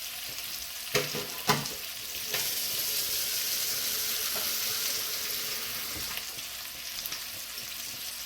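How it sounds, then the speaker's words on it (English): Beef chunks sear in hot oil inside a Dutch oven for a red-wine beef stew, a steady close sizzle and crackle after a couple of sharp knocks as the meat goes in. "When you put the meat in the hot Dutch oven or whatever pot you're using, leave it alone so it sears."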